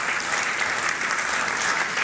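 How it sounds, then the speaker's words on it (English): Steady applause from a large audience thanks the speakers at a satellite launch event, a continuous dense wash of clapping, loud and unbroken throughout. "I think we should give our speakers a big round of applause"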